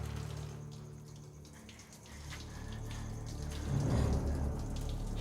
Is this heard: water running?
yes